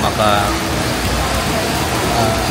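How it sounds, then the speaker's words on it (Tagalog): Steady rain falling on a city street in Singapore, a continuous broadband hiss with faint traffic rumble underneath, with a voice speaking briefly over it. "ito maulan"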